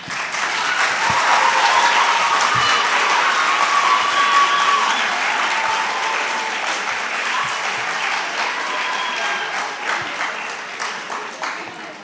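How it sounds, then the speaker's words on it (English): Audience applause fills a quiz competition hall for about twelve seconds, a steady loud clapping that tapers slightly toward the end, with a few voices faintly audible underneath. "I like the applause."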